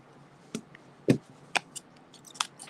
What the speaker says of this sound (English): And now my scissors here.